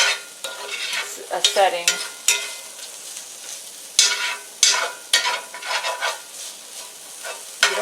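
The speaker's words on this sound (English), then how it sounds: "You just want the onions to turn deep gold, so you got to keep stirring here." Onions frying in a pan over medium heat, stirred continuously as they turn deep gold, giving a steady close sizzle broken by repeated scraping strokes of a utensil.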